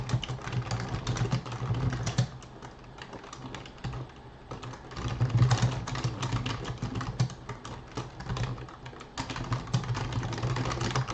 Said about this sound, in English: I guess I couldn't talk while typing.